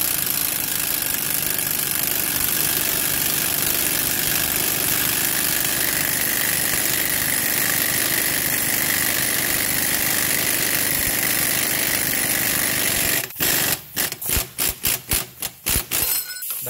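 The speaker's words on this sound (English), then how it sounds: "and then you can go ahead and hammer it" A steady engine-like drone runs throughout, then a quick series of sharp metallic hammer strikes driving a wheel bearing into the hub of a 2001 Subaru Outback, about eight blows close together, near and loud.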